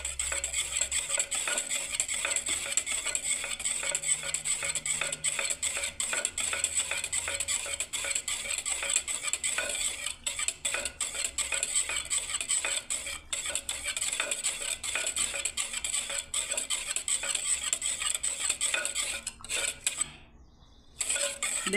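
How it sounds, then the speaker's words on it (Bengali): Milk being stirred into a potato and pointed gourd curry in a pan, a steady run of light scraping and clinking strokes with a constant background hiss, close and alone with no talk, briefly dropping out near the end. "আমি এবারে দুধটাকে ঢেলে দিচ্ছি বন্ধুরা এর মধ্যে। ব্যাস, আবার ঘাটতে থাকবো বন্ধুরা।"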